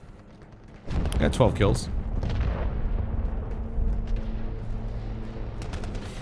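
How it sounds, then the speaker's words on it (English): Cruise missile strikes in a first-person shooter video game, heavy booming blasts and rumbling detonations starting about a second in, loud and sustained, with someone talking over them. "Allied cruise missile away."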